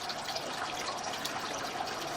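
Water running through a drain line, a steady hissing trickle with faint gurgles, close and continuous without any talking.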